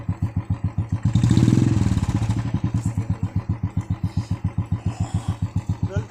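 A Bullet motorcycle's single-cylinder engine idles with a loud, steady thumping beat that rises briefly in a short rev before settling back into its even putter.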